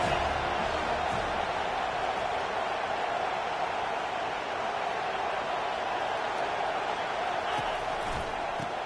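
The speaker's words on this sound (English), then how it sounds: "This crowd is tearing the lid off this place." A College Football 25 stadium crowd from a TCU at Florida State game roars as a steady, loud, dense wash of noise that holds without a break for the whole stretch.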